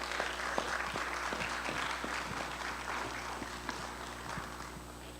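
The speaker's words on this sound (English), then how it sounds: "Let's give her another round of applause" A room full of people at a senior commencement ceremony claps steadily, the applause fairly loud and continuous with a few sharper individual claps standing out.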